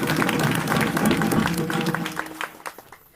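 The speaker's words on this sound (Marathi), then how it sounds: "सर्वांनी टाळ्या वाजवा" Dense applause from an audience at a devotional kirtan gathering in Alandi, steady for about two seconds and then thinning into scattered claps that fade out.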